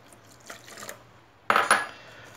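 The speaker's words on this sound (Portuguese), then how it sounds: "Eu vou pegar a água" A cup of water is poured into the bowl of a Mondial stand mixer, heard as brief splashing, clinking bursts close by, with a quieter splash first and a louder one after a pause.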